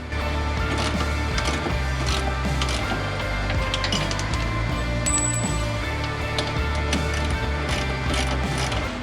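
A bolt is worked out of the leaf spring mount on a 1966 Mustang, with rapid ratcheting clicks and metallic clanks continuing steadily at close range without speech.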